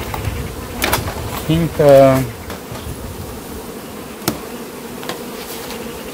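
Honey bees buzz around an open beehive, a steady low hum with brief louder passes as insects fly close, and a few short taps and a word of speech over it.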